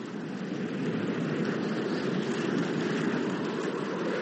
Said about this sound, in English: Look at the wind blow.